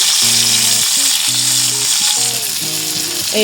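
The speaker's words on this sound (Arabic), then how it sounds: "انا في المرحله دي هنزل البصل، هديله تشويحه بسيطه بس يدبل" Onions sauté in a pan until they wilt, a steady hiss of frying under loud melodic music throughout.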